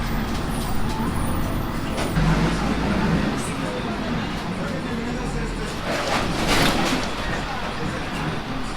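A bus rattles and rumbles along a bumpy road in Boca del Rio, Veracruz, Mexico, a steady loud engine and road roar heard from inside for the whole stretch, with thumps and jolts over the rough surface.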